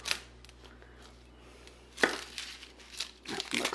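Onion being chopped with a knife on a cutting board for chicken stock, a few separate knife strikes spread across the clip, moderately close, with no talking.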